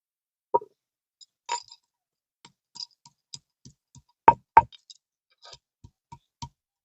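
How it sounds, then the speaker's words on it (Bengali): Green and red chillies crushed with a stone pestle on a flat stone grinding slab: a run of scattered dull knocks and taps, with two sharper, louder thumps close together partway through, and quiet gaps between strikes. "এখানে তো আমি শিলনোড়া দিয়ে থেতো করে নিচ্ছি"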